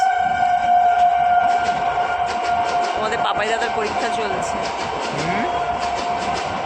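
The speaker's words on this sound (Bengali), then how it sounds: "আর এত ট্রেনের আওয়াজ।" A train passing close by with a sustained rumble and tonal horn-like drone, while a person talks over it for the whole stretch.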